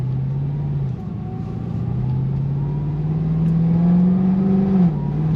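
An 800 HP Cadillac CTS-V on 93 octane pulls hard in third gear, its engine droning loud and close with a steadily rising pitch after a brief dip, a deep sustained roar throughout.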